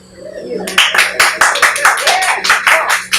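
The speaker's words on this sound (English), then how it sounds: "Clap if you're stupid." A stand-up comedy audience bursts into steady clapping after a brief quiet lead-in with a faint voice, the claps dense and loud, fairly close, continuing evenly to the end.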